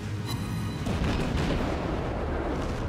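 Naval gunfire from warships in the World of Warships video game: a dense, continuous barrage of booming cannon blasts rolling together at steady loudness with no talk over it.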